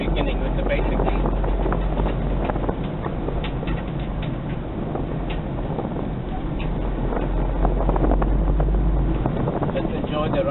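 A Toyota Hilux 3.0 KZTE 4x4 turbodiesel driving: a steady low engine drone with road and wind rumble filling the cabin, continuous and fairly loud, with some voices in the background.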